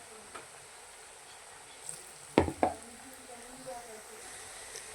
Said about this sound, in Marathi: कढईत जेवढे मावतील तेवढे भजी सोडून घ्यायचे